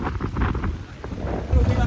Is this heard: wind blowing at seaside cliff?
yes